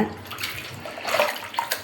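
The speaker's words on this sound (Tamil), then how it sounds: "இப்போ வந்து இந்த கூடையில் வந்து அலசி எடுத்து வச்சுருங்க" Chicken pieces being rinsed with water in a basket, a steady splashing, trickling wash heard close up with no talk.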